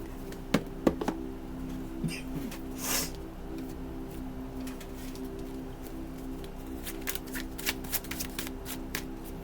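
Tarot cards shuffled by hand, sharp riffling bursts and soft taps scattered across the stretch, close and clear over a faint steady hum.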